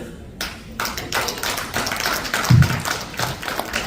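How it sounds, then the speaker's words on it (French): Applause from a live audience at a business presentation in Granby, a steady wash of claps with a louder thump partway through, no talking over it. "Est-ce qu'on peut applaudir plus fort que ça?"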